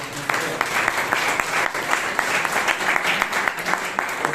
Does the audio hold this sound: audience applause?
yes